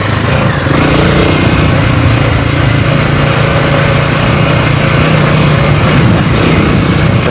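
A big motorcycle, larger than a dirt bike, rides a narrow, loose dirt road near Rangataiki on the Napier–Taupo route. Its engine drones loud and steady throughout, mixed with wind rush and no voices.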